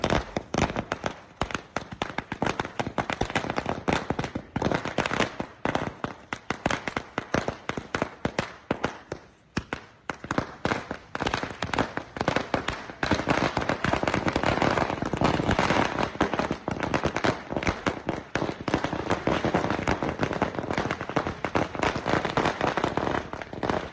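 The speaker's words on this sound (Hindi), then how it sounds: "हिडमा की मौत के बाद छत्तीसगढ़ में पटाखे फोड़े गए।" Strings of firecrackers set off in celebration in Chhattisgarh, a dense, continuous crackle of sharp rapid bangs lasting the whole stretch, loud and close, with barely any pause.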